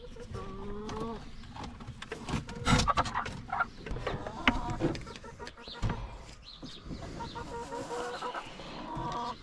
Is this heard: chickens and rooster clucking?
yes